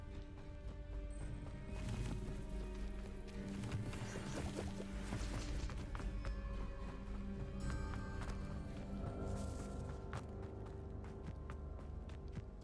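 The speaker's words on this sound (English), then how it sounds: "The waterfall." A waterfall in Hogwarts Legacy rushes in a steady, even wash of water noise beneath the game's music, with no voices.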